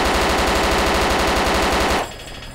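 Rapid automatic gunfire in Arma 2: DayZ, aimed at a running player, a loud, tightly spaced stream of shots for about two seconds before cutting off abruptly into a faint tail.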